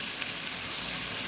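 Tomatoes and onions sizzle steadily in a hot pan for Singaporean bhetki fish roast, a dense, even frying hiss with no voices.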